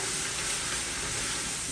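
Ground meat sizzling with onions in a hot pan for chili, a steady loud broadband hiss and crackle, close and continuous with no talking.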